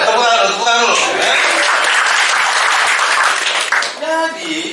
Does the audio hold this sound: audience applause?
yes